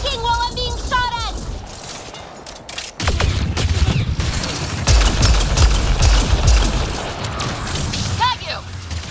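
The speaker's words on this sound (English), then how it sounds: "No thinking while I'm being shot at!" Gunfire in the Mass Effect Andromeda video game: a loud, sustained barrage of shots and booming impacts that runs for several seconds, with game voices and synthetic bleeps in and around it.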